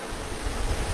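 Heavy rainfall at an outdoor religious discourse gathering, a loud, steady wash of dense hiss with a deep rumbling swell partway through, no speech audible.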